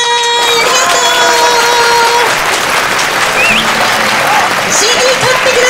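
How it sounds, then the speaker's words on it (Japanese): Sustained applause from an outdoor festival crowd after a six-year-old's stage performance at a local-produce festival in Okayama. The clapping is loud and dense, with some voices and faint music under it. "大きな拍手をお送りください"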